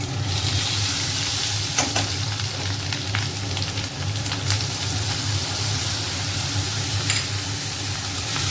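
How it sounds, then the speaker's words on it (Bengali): Pointed gourd (potol) frying in a pan in a home kitchen, a steady close hiss and crackle that runs throughout with no one speaking. "পটলটা একটু ভাজতে বসালাম"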